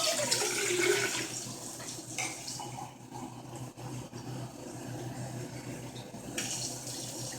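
Tap water runs into a cup, to be boiled for panela, a steady splashing stream that shifts in pitch as the cup fills, close and fairly loud with no talking.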